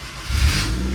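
A 2003 Honda Civic LX engine catches after a starter replacement, its low rumble swelling into a short rev that holds steady and loud, with no talking.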